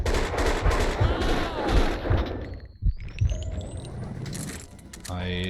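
Gunfire in the Max Payne 2 video game, with a dense volley of sharp shots over the first three seconds, then scattered reports and a brief mechanical whine, while someone speaks over the action.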